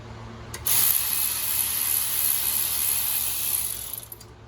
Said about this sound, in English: All right, let's loosen these bolts. And that's a 12 millimeter.